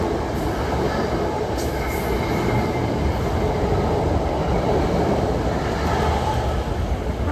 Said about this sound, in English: Last train that went by was